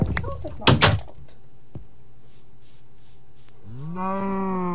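A cow moos once, loud and drawn out, in a survival video game, following a few bumps and knocks and a stretch of low game ambience.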